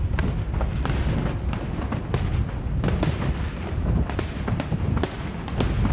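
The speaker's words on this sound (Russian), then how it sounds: "Завершился торжественный вечер праздничным салютом." Festive fireworks salute closing an evening celebration in Chechnya, a steady barrage of sharp cracks and booming thuds bursting one after another, loud and continuous for several seconds, with no voices over it.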